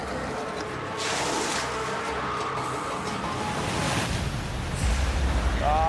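Surf breaks around a small dinghy in rough Tasmanian coastal waters, a steady loud wash of churning water and wind rushing past the microphone, swelling and rolling throughout.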